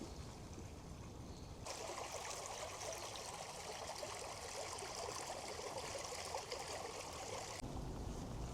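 Water runs out of an abandoned uranium mine on a mountain in Russia, a steady, soft rushing trickle that keeps going without a break, fairly faint and heard alone.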